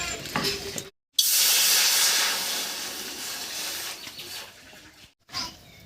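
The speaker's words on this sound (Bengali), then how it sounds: "এবার কড়াইতে দেব এক মগ জল" A mug of water hits a hot wok that has just been used to dry-roast cumin. A loud, sudden burst of sizzling and hissing steam follows, then slowly fades over several seconds.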